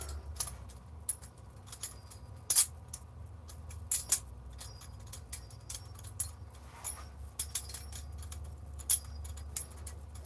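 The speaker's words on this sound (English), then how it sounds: "Bro, I love the sound of balisong." A balisong butterfly knife being flipped, giving irregular sharp metallic clicks and loose rattles over a quiet background, close but soft, with no one talking.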